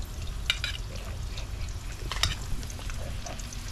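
Onions frying in a pan for a Guyanese gilbaka fish dish, giving a steady low sizzle with a few sharper crackles and spatters, close and alone.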